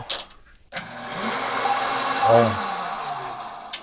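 A Chinese-made metal lathe cutting slowly, a steady whirring motor hum with a cutting whine that swells briefly, after a short sharp clack at the start.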